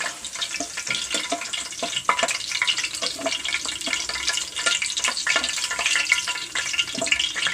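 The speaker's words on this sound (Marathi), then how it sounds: "हे सगळं भाज्या अशा प्रकारे फ्राय करून घ्यायच्या आहेत आपल्याला" Potato and cauliflower pieces fry in hot oil for a vegetable biryani, a steady dense sizzle with crackling pops close up and unbroken throughout.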